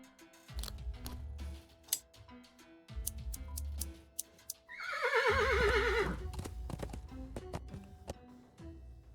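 A horse whinnies loudly in the Willy Morgan and the Curse of Bone Town adventure game, a long wavering neigh over a bed of ticking and tapping game sounds, with sharp clicks before and after.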